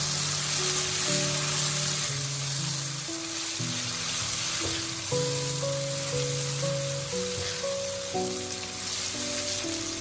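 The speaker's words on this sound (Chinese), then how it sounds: "把西红柿先倒进锅中，开大火快速的翻炒，把西红柿炒出汁水" Tomatoes stir-fried in a wok of hot cooking oil over high heat give a constant crackling sizzle with faint scraping stirs, under steady background music and no speech.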